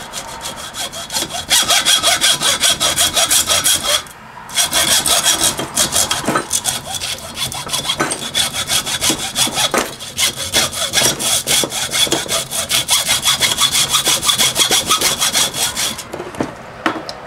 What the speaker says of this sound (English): I like to just clamp it in a vise and run a hacksaw through it.